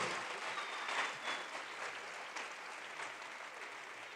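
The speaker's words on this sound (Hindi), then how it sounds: "जोरदार तालियां प्लीज़" A school annual day audience claps in sustained, even applause, a hall full of hands heard from a distance at fairly low level.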